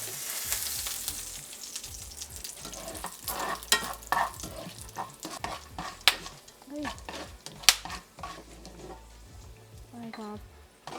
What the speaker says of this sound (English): Next, I'm gonna fry the pumpkin seeds.